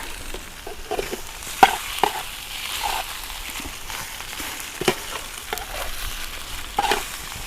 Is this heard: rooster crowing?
no